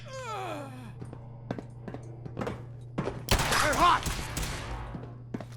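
Gunfire in the video game Fallout 4, a burst of several rapid shots clustered near the end, with a voice calling out just before and scattered game sounds.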